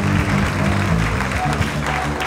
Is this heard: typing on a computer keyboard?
no